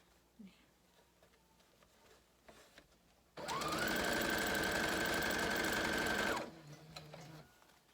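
A sewing machine stitching felt, running in one steady, loud, whirring burst of about three seconds with a rapid needle rattle, preceded and followed by quiet room noise and faint handling sounds.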